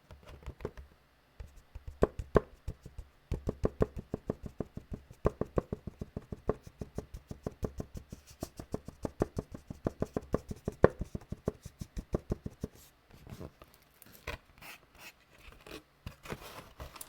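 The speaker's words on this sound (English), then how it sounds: "See if we can get some good sounds out of this box before we tear it apart and throw it away." A Nerf blaster's cardboard box is handled and tapped up close in quiet, with rapid runs of light taps and scratches in irregular bursts and brief gaps.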